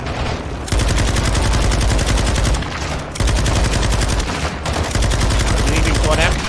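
Rapid automatic gunfire from the video game Call of Duty MW2 rattles in long, loud, continuous bursts with brief pauses between them, as several weapons fire over one another.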